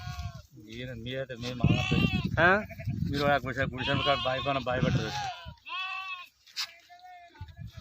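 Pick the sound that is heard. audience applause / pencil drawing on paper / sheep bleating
sheep bleating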